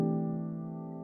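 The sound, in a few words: piano playing jazz open voicing chords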